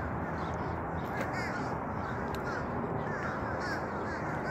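Crows perched along an overhead wire caw repeatedly, their harsh calls scattered through a steady outdoor noise background, moderately distant and overlapping with no voices.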